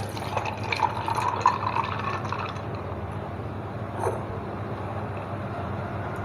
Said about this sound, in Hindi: अब हम इसमें दूध डालेंगे। दूध हमारा ठंडा है।